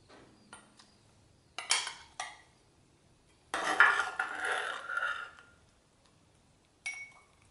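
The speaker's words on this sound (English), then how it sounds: "I'm going to scoop on in some of that crispy goodness" Spoon scraping and scooping apple almond crisp from a baking dish, a few short clinks and one longer scraping stretch in the middle, close and fairly quiet with pauses between.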